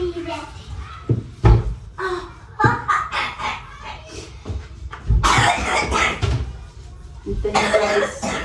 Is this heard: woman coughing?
yes